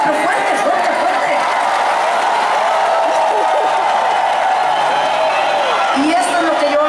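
A concert crowd at a show in Coquimbo, Chile claps and cheers continuously, a dense wash of applause with scattered whoops, while voices carry through the noise.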